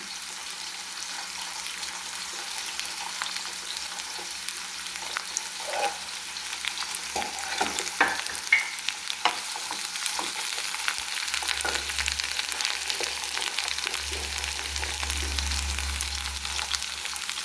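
Sliced onions sauté with salt in a hot pan, giving a steady close sizzle with occasional stirring scrapes and clinks, and a low rumble joining partway through.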